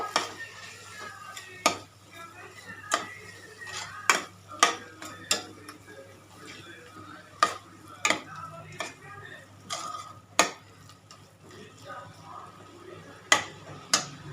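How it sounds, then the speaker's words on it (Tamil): Repeated scraping and clinking of a spoon stirring ingredients in a pan, irregular strokes over a soft background hiss. "எல்லாத்தையும் போட்டு நல்லா மிக்ஸ் பண்ணிக்கோங்க."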